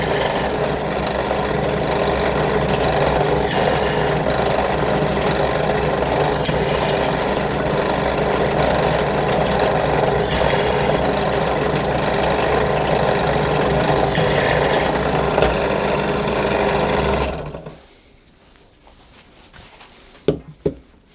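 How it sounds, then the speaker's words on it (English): A power drill whines steadily for about seventeen seconds drilling holes in the bottom of a metal coffee can, then stops, leaving near silence broken by a few sharp metallic clinks. "Next we need to drill some holes in the bottom to allow air through and ash to drop out."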